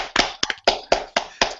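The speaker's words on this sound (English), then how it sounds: "Can we get a round of applause?" Round of applause from a small audience, six or so sharp, separate bursts of hand claps in an uneven rhythm, close and fairly loud, with no voices.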